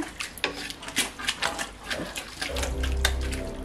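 Turkey chili with canned beans and beef being stirred in a pot: repeated soft scraping and wet clinks of a utensil against the pot, fairly close, ending in a steadier low rumble of liquid movement, with no talking.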